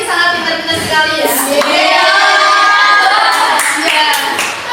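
Primary school pupils clap their hands in a classroom, a brief patter of claps mixed with children's voices and chatter, fairly loud and close.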